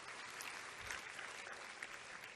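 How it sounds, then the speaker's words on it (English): A graduation audience at a university commencement in a large hall applauds steadily, soft and distant, the clapping even and continuous. "Can we give a round of applause to"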